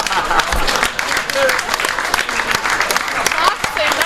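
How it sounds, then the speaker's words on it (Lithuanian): Audience applause at a Lithuanian stand-up comedy show by a comedian, a dense, steady patter of many hands clapping across the whole stretch, with a voice speaking over it. "Vėl plojimai."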